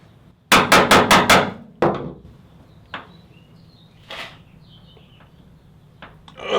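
Five quick metallic taps in a tight row on a screwdriver loosening tight screws on a Chevy Colorado tail light, followed by a single knock and a few faint clicks and handling sounds close by.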